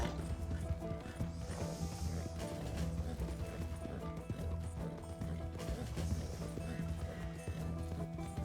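Horse hooves clip-clopping at a run with an occasional whinny in Red Dead Redemption II, set against a dense, steady bed of game music and ambience throughout.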